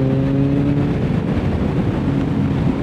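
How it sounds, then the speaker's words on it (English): Honda VFR motorcycle engine with gear-driven cams, a loud, steady close-up engine drone with a whirring, whining tone layered on top, with no voices. "I love the gear-driven cam sound. It makes that like whirring, whining noise."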